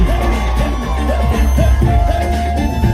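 A concert crowd at a Mumbai music event screams and whoops continuously, loud and close, with amplified music underneath.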